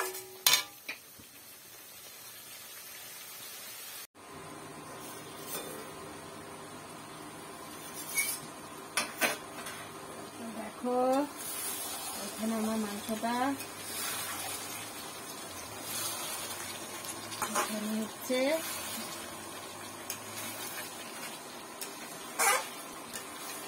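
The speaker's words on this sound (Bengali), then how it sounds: "এখানে আমার মশলাটা কষানো হচ্ছে" Spice paste with tomato fried and stirred in a pan for a meat curry, a steady close sizzle carrying repeated scrapes and clinks of a utensil against the pan, with occasional metallic knocks.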